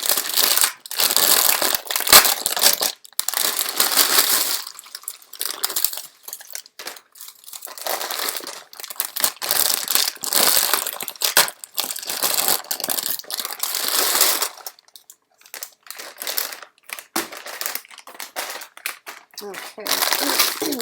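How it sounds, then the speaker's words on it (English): A Twix candy bag is torn and rummaged open with loud, bursty plastic crinkling and crunching, close up, in repeated handfuls with brief pauses, while a person talks at times. "I gotta open this Twix bag."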